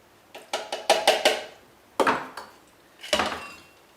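Raw cheesecake crust is dumped from a bowl into a pie plate, making a quick run of crisp clattering knocks followed by two more separate bangs, close and fairly loud with no talk.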